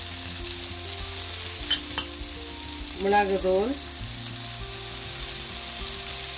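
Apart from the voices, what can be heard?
spices frying and being stirred in pan with shrimp and onions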